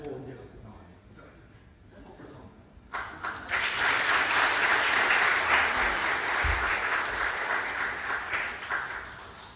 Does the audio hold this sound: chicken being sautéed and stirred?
no